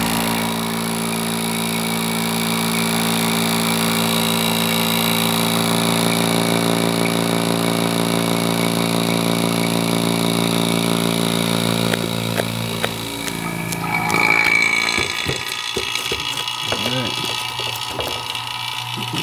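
A vacuum pump runs steadily to pull a vacuum bag tight over a homemade carbon fiber intake mold, a constant motor drone with a clattering shift near the end.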